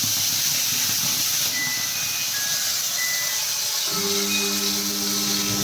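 Spice paste hits hot oil in a pan with bay leaf and cumin for Bengali fish kofta, a loud continuous hiss and sizzle throughout with a low tonal hum joining partway.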